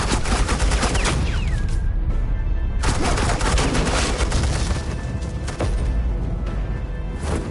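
Sustained suppressing gunfire from Agent Quinn in Telltale's Batman: The Enemy Within, Episode 5: a loud, dense, continuous barrage of rapid shots with brief dips in intensity and no talking.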